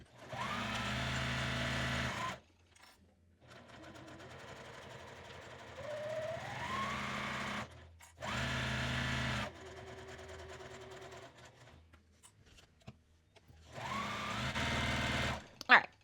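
Sewing machine stitching fabric for a 9x13 glass pan cover, running in three or four bursts of steady whirring separated by pauses, with a person talking in between runs.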